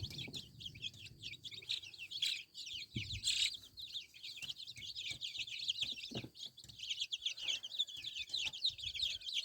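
Chickens and chicks on a village farm in western Ukraine, with many high peeping chick calls chattering continuously alongside occasional hen clucks, moderately close and busy throughout.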